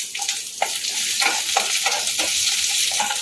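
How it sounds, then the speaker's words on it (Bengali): Curry leaves hit hot oil with mustard seeds and crackle loudly: a close, steady sizzle broken by sharp popping bursts and occasional stirring scrapes, with no talking. "এখন আমি কারি পাতাটার মধ্যে দিয়ে দেবো।"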